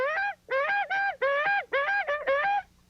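A voice imitates a goose call with a quick run of about seven loud, nasal honks, breaking upward in pitch, as a warm-up for natural-voice elk calling.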